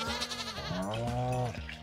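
Goats bleating in the farming game Stardew Valley, with several overlapping wavering bleats that rise and fall across the short stretch, loud and close, with no talk over them.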